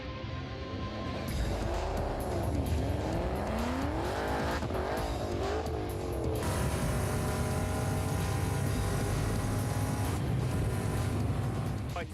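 Race car engine roaring at speed on a standing-mile track, a sustained loud drone with rising and falling pitch sweeps as the car accelerates and shifts, with no talk.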